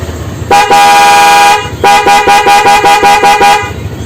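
Two long, loud blasts from a Denso snail horn fitted to a 2020 Yamaha Nmax scooter: a steady tone of about one second, a brief pause, then a rapid burst of short repeated honks, close and with no talking.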